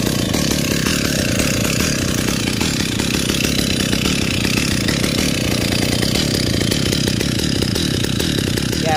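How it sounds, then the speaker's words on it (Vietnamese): A STIHL 028 AV Wood Boss chainsaw engine runs loud and steady nearby, a continuous buzzing drone with no voices. "bây giờ mời cả nhà nghe tiếng máy nổ."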